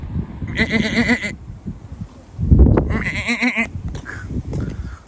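A person imitates a goat with two drawn-out, wavering bleats on a windy outing at Karaburun during a storm. A rough burst of noise and low voices fall between the calls.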